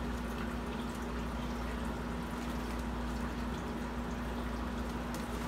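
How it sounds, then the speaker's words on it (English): Water dumped into a bag of sphagnum moss while setting up a bioactive vivarium, a steady, continuous rushing pour that holds at an even loudness for several seconds. "just dump the water into the bag"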